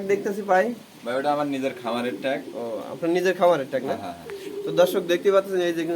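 Pigeons coo steadily at a pigeon market selling racer, satin, Sirazi and other fancy breeds, with overlapping throaty calls close by and people chatting underneath.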